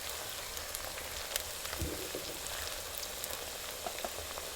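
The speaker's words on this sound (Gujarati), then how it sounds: "હવે આપણે ડુંગળી ઘણી લાલ થઈ ગઈ છે તળાઈ ગઈ છે" Onions frying in hot oil for a sweet corn curry, a steady crackling sizzle with scattered pops that runs throughout, close and fairly quiet.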